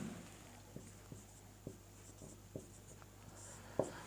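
A pen scratches out a Sanskrit word, a series of faint, short, evenly spaced strokes over a quiet, humming room with no speech.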